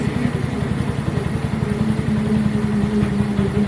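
A tired, high-mileage Honda Grom motorcycle engine runs on a dyno with a loud, steady, rapid thumping exhaust note and a constant mechanical drone.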